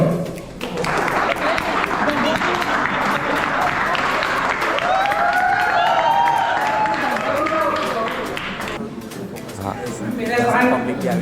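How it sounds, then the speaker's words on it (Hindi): Audience applause and cheering at a hiking group's third-anniversary meet-up as a speaker is called to the stage, a sustained crowd clapping for several seconds with voices mixed in, then fading as talking resumes. "तो अपनी जोरदार तालियों से स्टेज पे"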